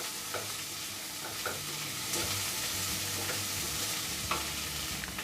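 Schezwan egg fried rice with soy sauce and spring onion being stir-fried in a hot pan: a constant close sizzle with repeated scraping and tossing of the spatula through the rice.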